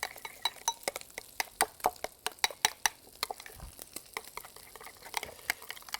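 A spoon or utensil stirs a sauce mixture in a bowl, giving a steady series of light, quick clinks and scrapes against the side, fairly close and heard alone without any talking.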